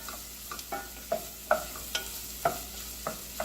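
Red pepper flakes stirred in a pan of pizza sauce: a spoon scrapes and taps about seven times in an uneven rhythm, close and fairly quiet, over a soft simmering hiss with no talk.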